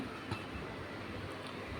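Indian freight train passing through New Cooch Behar Junction station, a faint, steady rumble of rolling wagons heard from a distance.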